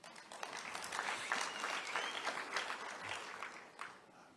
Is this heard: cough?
no